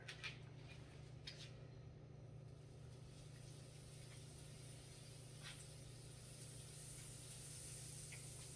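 Butter sizzles in a warmed frying pan while a salmon burger is being made, giving a faint, steady hiss that runs evenly throughout with no voices.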